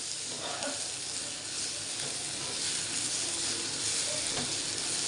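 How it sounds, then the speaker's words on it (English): Moringa leaves sauté in a pan with a continuous soft sizzling hiss, steady and close, with faint stirring scrapes and no talking. "saute this till the leaves are wilt"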